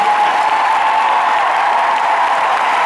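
A large concert crowd at an arena applauds the musicians in a dense, continuous roar of clapping and cheering, loud and unbroken throughout.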